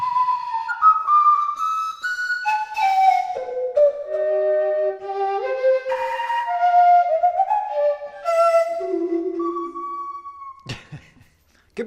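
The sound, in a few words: flute being played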